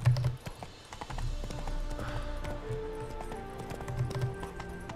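Hooves of Roach, the horse in the video game The Witcher 3, clip-clop at a walking pace close by over soft game music, with a few louder steps near the start and end.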